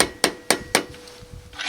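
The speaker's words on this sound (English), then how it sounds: "barely tap that with a hammer." Three light, evenly spaced hammer taps on a Jeep door hinge during a DIY repair, each a sharp metallic tick close by, followed by quieter handling noise.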